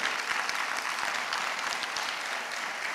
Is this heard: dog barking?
no